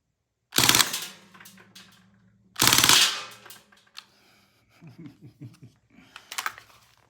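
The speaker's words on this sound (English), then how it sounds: "Let's do full auto." A Crosman Bushmaster MPW .177 CO2 air rifle fires two loud, rapid full-auto bursts about two seconds apart, followed by a quieter scatter of clicks and rattles.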